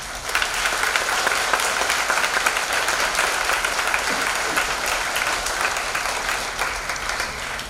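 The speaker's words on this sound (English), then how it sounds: "So can we give you and your teachers a loud clap?" A school gathering of children and teachers gives sustained loud applause, a dense continuous clapping from a crowd that holds steady for several seconds.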